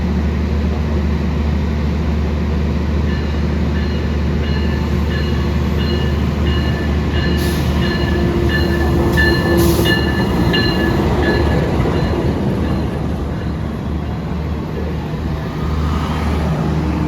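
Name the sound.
new KRL commuter train made by PT Inka running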